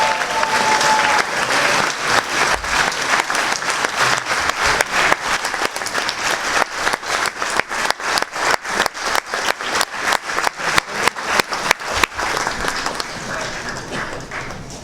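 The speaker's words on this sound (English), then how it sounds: "So I would like you all to stand up and give a big cheer to the class of" A graduating class of 2019 is cheered by a standing audience at a Year 13 graduation ceremony at an international school. The loud, sustained applause is made of dense hand clapping that turns into rhythmic, almost unison clapping toward the end.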